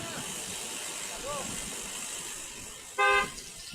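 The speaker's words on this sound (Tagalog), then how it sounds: "Busina lang busina. Diretso ka na." A car horn gives one short, fairly loud toot near the end, heard over road and engine noise with people talking.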